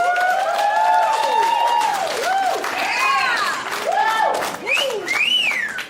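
A stand-up comedy crowd claps and cheers, the dense patter of hands overlaid with loud sliding whoops and whistles from several people throughout, sustained at full volume for the whole stretch.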